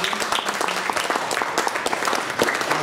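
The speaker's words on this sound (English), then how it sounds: "Give our candidates a round of applause." An audience at a judicial endorsement interview event applauds the candidates with dense, steady clapping, loud and sustained for a few seconds with no voices over it.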